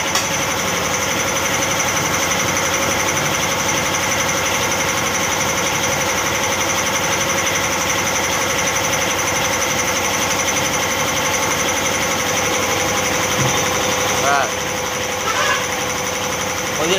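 A tyre changer machine fits a 140/60R17 motorcycle tyre onto its rim, a loud continuous mechanical rattle and drone running throughout with a faint squeal near the end.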